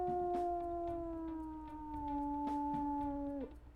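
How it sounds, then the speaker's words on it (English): A wolf in the game WolfQuest gives a single low, lonely howl, one long steady tone held for over three seconds, sliding slightly downward before breaking off near the end, with faint game ambience beneath. "Aw, the low, lonely howl."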